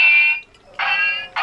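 A broken toy lightsaber gives off loud, harsh alarm-like electronic bursts, three pulses separated by short gaps, each a steady piercing buzz-tone heard alone.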